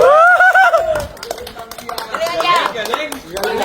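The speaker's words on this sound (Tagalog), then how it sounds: "palakpak ko na kaya" A few sharp hand claps ring out amid lively talk and chuckling, mixing with cheering voices around a baby's playful moment.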